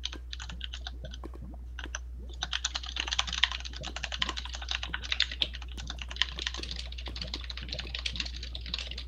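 Rapid, uneven typing on a computer keyboard, keys clattering up close and fairly quietly, with no talking over it.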